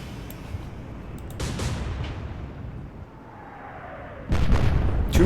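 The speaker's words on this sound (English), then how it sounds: "That was a huge explosion." Naval gunfire and explosions from the Atlantic Fleet warship game, heavy booming blasts with rumbling tails, one around mid-clip and a louder, closer burst near the end, with no talking.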